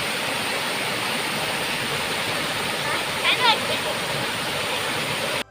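Brahmdev waterfall at Donivade pours in a steady, full roar of rushing water that continues evenly throughout, with a brief faint higher sound midway.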